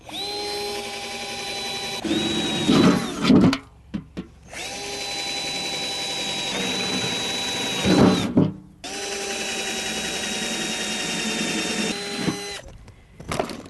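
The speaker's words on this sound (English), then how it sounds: "we need a few drainage holes, so I'm just going to drill a couple in the bottom here" A power drill whines steadily in three long bursts, each ending with grinding as the bit bites through the bottom of a zinc bucket, separated by brief pauses.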